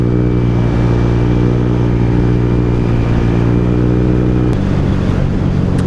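A motorcycle ridden along a road, its engine giving a loud, steady, close-up drone that holds at an even pitch and drops slightly in tone near the end, with no talking over it.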